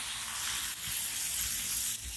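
Smash burgers frying in butter on a hot griddle, a loud, steady, hissing sizzle with fine crackling spatter throughout and no voices.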